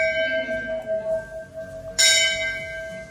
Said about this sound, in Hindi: ये घंटी को 4 बार बजाते हैं